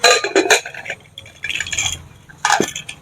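A pot of boiled peas is opened in a home kitchen. Metallic clinks and a lid rattle come in three short bursts with quiet gaps between them, close and fairly loud.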